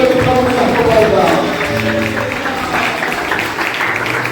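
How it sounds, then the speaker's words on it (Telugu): Audience applause at a youth festival in Darsi: sustained, dense clapping from a crowd, steady and fairly loud throughout, with some music or voices mixed in underneath. "Let's give a round of applause to the Almighty God in heaven"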